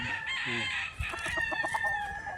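A young stag rooster crowing at a gamefowl farm in Tagaytay City, one clear, loud cock-a-doodle-doo close by, followed by clucking.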